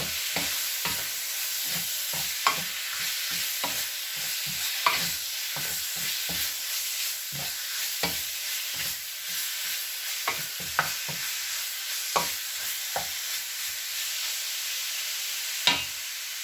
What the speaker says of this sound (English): Give it a good stir. Then my garlic and black pepper.